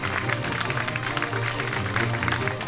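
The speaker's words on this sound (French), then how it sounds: "On peut encore une fois applaudir les deux joueurs." Audience applause for two chess players at a chess event, a steady, dense clapping wash that holds evenly from start to finish with no voices over it.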